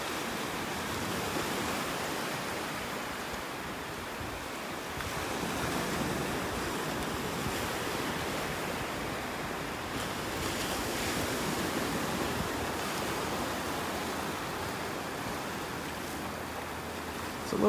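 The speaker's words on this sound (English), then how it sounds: "these little waves breaking along the shoreline here" Little waves breaking along the shoreline at Delnor-Wiggins beach in North Naples, Florida, a soft continuous wash of surf with gentle swells, close and steady, with no talking.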